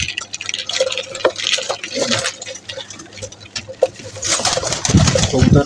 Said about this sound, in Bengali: এটা হচ্ছে আমাদের কবুতর, আর এই হচ্ছে আমার সবথেকে বেস্ট কবুতর